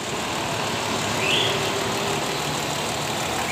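A 1981 Toyota FJ40 hardtop engine idles smoothly and steadily without missing, giving a constant close rumble with no speech over it.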